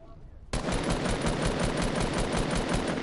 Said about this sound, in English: So who's shooting at me?